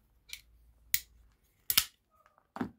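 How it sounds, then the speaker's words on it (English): Four sharp, separate snips of scissors cutting red cord tails off a knife bead, close and crisp, with quiet pauses between cuts. "I will cut off these red tails"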